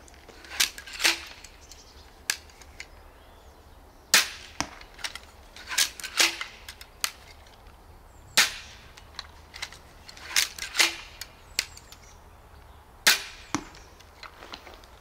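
EK Archery Vlad tactical crossbow loosing three rapid shots, each a sharp snapping crack with metallic clatter, interspersed with clicks of reloading and cocking, close and clear with no speech.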